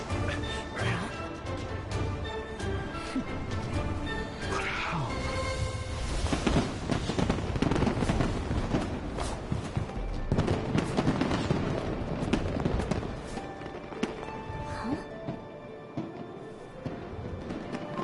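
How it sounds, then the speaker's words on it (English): Fireworks burst in a video game, a dense barrage of booms and crackles that stays loud and continuous throughout. "Fireworks show? Huh."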